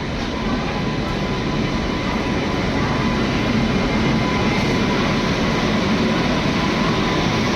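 A train rumbles steadily at a railway platform in India, a continuous loud roar of rolling wagons that stays even and unbroken from start to finish.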